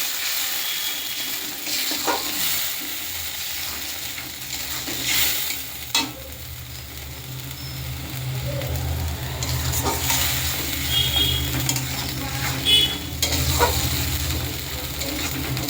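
Paste of poppy seeds, mustard and melon seeds fries in hot oil with black cumin, a steady close sizzle and hiss with occasional spoon stirs and scrapes against the pan, no talking over it.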